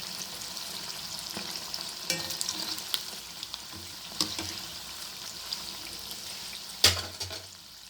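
Bonda fritters deep-frying in hot oil as an evening tea-time snack, giving a steady fine sizzle with occasional louder pops and a sharp crackling burst near the end, close by with no voices.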